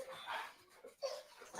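A pet dog giving a few soft, faint barks and whimpering yips, heard at low volume in a quiet indoor setting with no talking.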